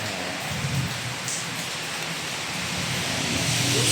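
Steady rain falls in a dense, even hiss, close and continuous, with a faint patter of drops on a surface and no voices.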